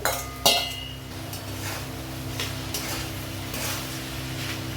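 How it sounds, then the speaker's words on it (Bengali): Fish pieces seasoned with salt and turmeric drop into a kadai for fish chop with a brief clatter. A soft, even frying hiss follows, with faint stirring and pan sounds. "ছাড়িয়ে রাখা মাছটা দিয়ে দেবো কড়াইয়ে"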